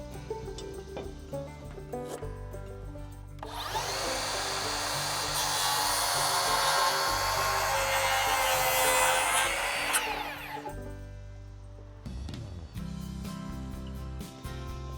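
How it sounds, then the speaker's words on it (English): A power tool cuts a decorative end into a locally sourced hemlock board, a loud close whirring burst lasting several seconds that winds down, with tapping and handling noises before and after. "I'm going down to the other end of my board to make the same decorative cut down at this end"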